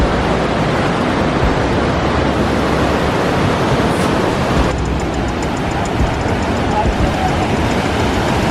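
Huka Falls waterfall in New Zealand roars with a steady, loud broadband rush of water that fills the whole clip without pause.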